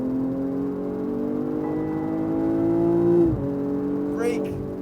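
BMW M240i at Dubai Autodrome holds a steady engine drone that rises slowly in pitch under acceleration, then briefly dips and recovers, heard from inside the car with a constant hum and no speech over it.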